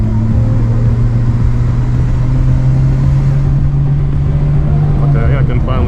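A Nissan R34 GTR climbs a Mt Fuji hill road, its engine droning loud and close from inside the car with a steady low hum that rises in pitch as it accelerates, then shifts near the end.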